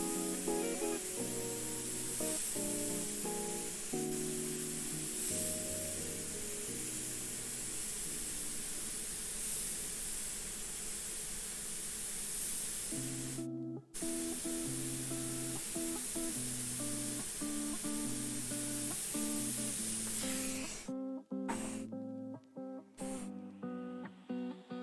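An airbrush sprays paint with a continuous, even hiss that breaks off briefly a few times near the end, heard over background music.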